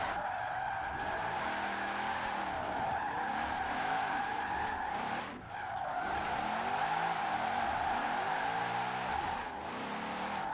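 A Formula Drift Corvette slides through a drift in Forza Horizon 4, with continuous tire squeal and skidding over a droning engine, steady and loud for the whole stretch with one brief dip.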